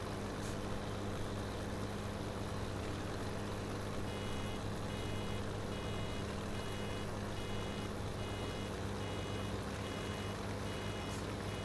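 A farm vehicle in Farming Simulator 17 sounds its reversing alarm. A steady series of high beeps rises over a constant, loud engine drone.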